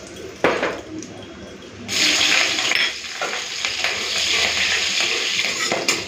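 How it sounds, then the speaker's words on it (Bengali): Nigella seeds and slit green chillies hit hot oil left from frying pabda fish, breaking into a loud steady sizzle near the pan after a few clinks, with no voices. "এরপরে তেলের মধ্যে দিচ্ছি কালো জিরে ফোড়ন"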